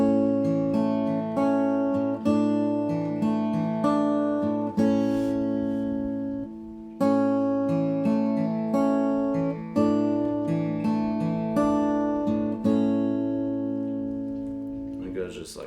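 Fingerpicked acoustic guitar plays a suspended-chord figure from the verses of a song, with ringing arpeggiated notes in a steady rhythm and a brief pause midway, heard close and alone.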